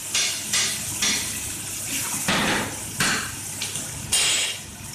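Crayfish are turned over one by one in a hot pan, giving a series of sharp metallic clanks and scrapes at steady intervals, close and fairly loud, with a faint sizzle underneath.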